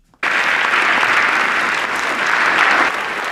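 A crowd applauds a political speech, the sustained clapping bursting in after a brief silence and holding loud and even throughout, with no voices on top.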